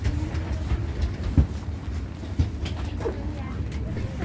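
Inside a passenger train on a Turkish rail journey between Denizli, Eskişehir and Istanbul, a steady rumbling ride with occasional clunks and rail knocks, while people talk in the background.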